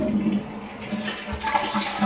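A newly installed toilet is flushed, giving a brief, fairly quiet rush and gurgle of water close by.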